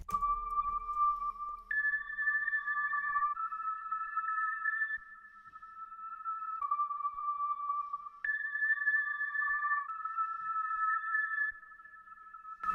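A reversed synth lead in FL Studio plays a slow sequence of about three sustained tones, each swelling in with soft reverb and delay tails, clean and alone.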